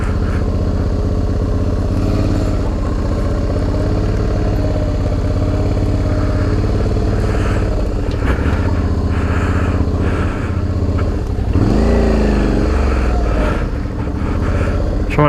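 A raised Suzuki V-Strom DL650 motorcycle held at steady high revs while creeping along slowly on the rear brake, a loud continuous engine drone with rising and falling pitch swells near the end.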